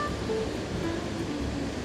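Low, rolling roar of Atlantic surf breaking on the beach at Caparica, fairly faint and continuous, with a hint of wind.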